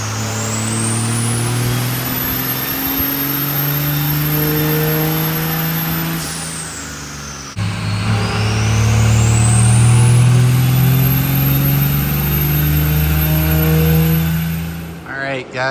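A 24-valve Cummins diesel truck engine runs loud and close during tuner testing, its pitch climbing steadily, dropping back, then rising again in a long sustained rev.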